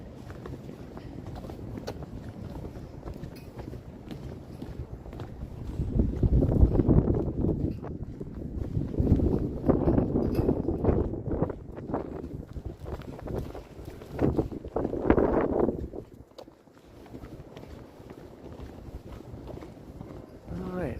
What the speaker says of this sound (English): Maybe we'll get away from this wind a little bit.